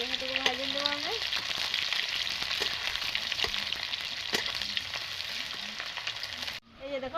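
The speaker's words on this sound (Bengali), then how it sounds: "পেঁয়াজ কুচি আমি এখানে দিয়ে দেবো। পেঁয়াজ এখানে ভাজিয়ে দেবো আমি।" Chopped onions fry in a pan for a village-style mutton curry. The sizzle is loud and steady throughout, with a few stirring scrapes, and it cuts off abruptly near the end.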